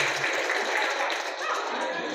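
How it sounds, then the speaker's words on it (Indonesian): An audience at an evening Maulid Nabi quiz competition gives a short burst of applause, dense and moderately faint, lasting about two seconds. "mari kita tepuk tangan buat semuanya ya"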